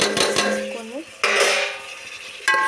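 A spoon stirs fish curry and masala in a pan, making close metallic clinks and scrapes in short bursts with brief pauses between them.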